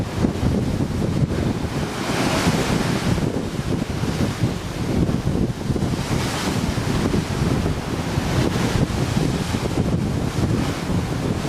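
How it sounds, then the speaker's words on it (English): Steady wind buffets the microphone aboard the cruise ship Costa Pacifica over the constant wash of choppy sea waves, a loud, unbroken roar with surges rising and falling. "We're quite choppy today."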